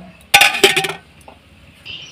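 A lid is set onto a cooking pot, giving two quick metallic clatters close by that ring briefly and fade, followed by quiet.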